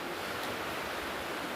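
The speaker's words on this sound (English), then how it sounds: "That water running, it's beautiful." A forest stream runs steadily in the White Mountain National Forest near a historic covered bridge, giving a dense, unbroken rush of water close by with no voices.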